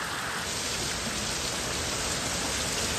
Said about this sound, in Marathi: किती मोठा पाऊस आला इकडे